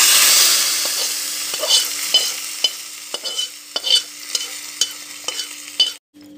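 Panch phoron spices and chili fry in hot oil for a Paschim Odisha tempering, a bright sizzle that fades gradually while a spoon stirs and scrapes the pan in irregular clinks before the sound cuts off.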